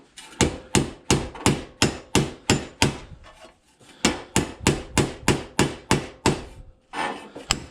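Steady hammer blows ring out in two quick runs of about a dozen strikes each, sharp metallic hits on metal held low in a vise, close by with a brief pause between runs.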